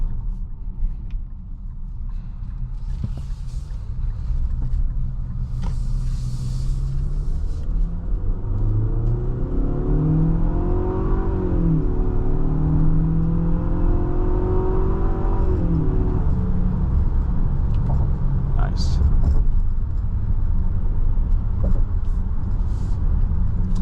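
A 2025 Infiniti QX60 Luxe AWD with a four-cylinder engine accelerating while driving, a steady loud interior rumble with rising and falling engine tones as it speeds up, heard from inside the cabin without talk.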